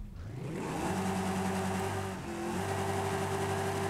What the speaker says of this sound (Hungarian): itt pedig azt lehet hallani, hogy magasság fordulatszámot tud elérni a kocsi